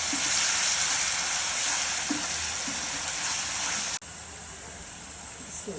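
Garlic paste frying with prawns and bottle gourd peel in a pan gives a steady, close, loud sizzle throughout, broken by a few light stirring scrapes.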